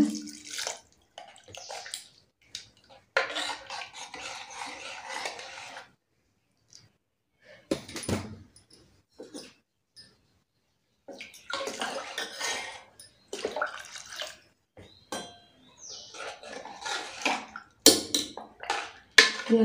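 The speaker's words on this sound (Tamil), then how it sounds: "இப்போ நம்ம எவ்வளோ சாம்பார் தேவையோ அந்தளவுக்கு தண்ணி சேர்த்துக்கோங்க" Water splashes and runs in bursts into a metal pot for sambar, with clinks of a vessel and a few quiet pauses between pours.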